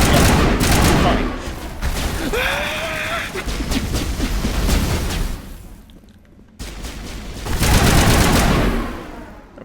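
Rapid assault rifle fire in the video game Mass Effect, dense bursts of automatic shots with booming impacts, dropping briefly before another loud volley, with voices talking over parts of it.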